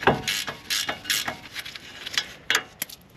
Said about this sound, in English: Now I have a ratcheting wrench just to make it go faster.